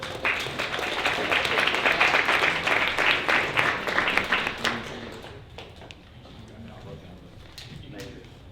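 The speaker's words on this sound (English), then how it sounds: "if you guys will clap and give it up for our panel, they're gonna come on up" An audience at a tech talk for parents claps to welcome a panel onstage: several seconds of fairly loud, brisk applause that tapers off and thins out to scattered claps.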